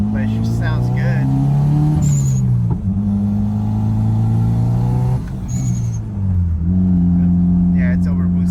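Toyota MR2 turbo engine over-boosting with a loud, steady droning exhaust note, the pitch shifting through a few surges and drops, with brief high whistles on top.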